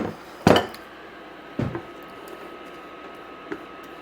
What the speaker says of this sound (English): I'm just going to stick them into a bowl.